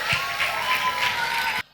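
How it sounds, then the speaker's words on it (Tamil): A crowd of children at a kids camp breaks into loud, sustained applause to welcome performers, a dense wash of clapping with some cheering that cuts off abruptly at the end. "எல்லாரும் நம்ம சூப்பரா கைத்தட்டி அவங்கள வெல்கம் பண்ண போறோம்."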